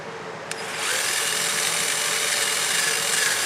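A power drill enlarging a hole in metal for a pop rivet while working on a Porsche 914 throttle positioner: a tap, then a steady high-pitched whine that holds close and loud.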